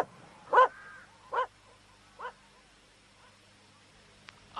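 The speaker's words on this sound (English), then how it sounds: "Seems to be where this puppy keeps his brains." A puppy gives three short yips or barks, spaced about a second apart and getting quieter, in a quiet setting.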